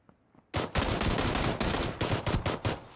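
Brief quiet, then a loud burst of rapid gunfire in the video game PUBG, shots cracking in quick uneven volleys that keep going to the end.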